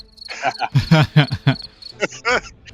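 A human voice imitates cricket chirps during a tabletop role-playing session, making a quick run of loud, close, pulsing chirps followed by a few more bursts.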